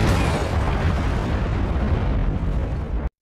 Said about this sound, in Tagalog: makikitang sumabog ang sasakyan sa himpapawid